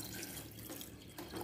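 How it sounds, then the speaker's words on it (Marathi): Water pours from a tap into a pressure cooker holding chickpeas, a continuous soft splashing stream, fairly quiet and without any talk. "आणि ह्यामध्ये आपल्याला पाणी टाकायचं आहे"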